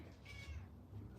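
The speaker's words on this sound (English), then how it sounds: "Oh, kitty cat." A cat gives a single short, faint meow, heard close and alone over a quiet low rumble.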